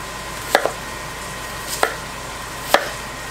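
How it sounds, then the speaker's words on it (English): A knife slicing an onion on a cutting board gives three sharp, separate chops about a second apart, close and clear over a quiet kitchen background with no voices. "I cut my onion in half and in half again."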